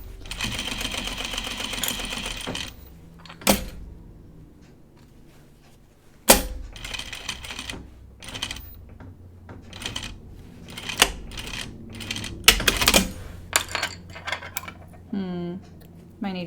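A sewing machine top stitching a jacket runs in short bursts of rapid mechanical chatter, broken by sharp clicks and pauses, with faint talk in between.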